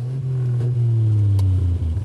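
A Bentley 3.5 liter straight-six with its exhaust flaps open, revving in a deep, loud, steady rumble that climbs slightly in pitch, heard close up.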